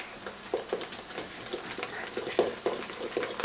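Whisk clicking and patting against a bowl while beer batter with a pinch of salt is mixed for fish and chips, in quick irregular taps close by.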